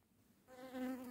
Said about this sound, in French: la douce musique des abeilles autour de moi